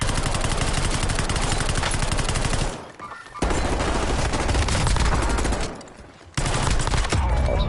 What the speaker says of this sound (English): He's getting shot from the roof.